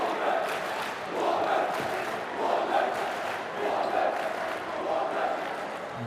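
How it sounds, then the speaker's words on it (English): A basketball arena crowd during a Türk Telekom versus Lietkabelis Champions League game chants a player's name in a steady rising and falling rhythm, with a commentator's voice faintly under the chant. "As you hear the crowd chanting his name."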